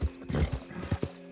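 Horse hooves pound in a fast, rhythmic gallop in Red Dead Redemption 2, loud and close, with a brief snort or whinny mixed in.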